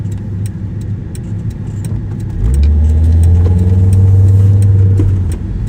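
A 1997 Volvo 850R estate with an automatic gearbox drives along, its engine a steady close hum over road noise that rises into a stronger, deeper drone partway through before easing slightly.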